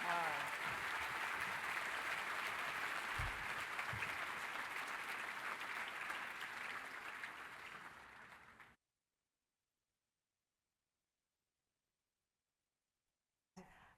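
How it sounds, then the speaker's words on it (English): An audience at a Plymouth Housing fundraising event claps in a dense, sustained round of applause that gradually fades before cutting to silence, with a faint burst returning at the very end. "Give her one more big round of applause, everybody."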